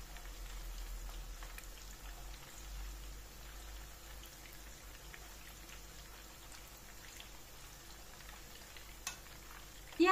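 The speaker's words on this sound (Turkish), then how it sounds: "Kızaran köftelerimin yönünü çevirerek her tarafının kızarmasını sağlıyorum" İzmir köfte meatballs sizzle in a pan as they brown and are turned. A steady, faint crackle of frying runs throughout, with a louder clatter right at the end.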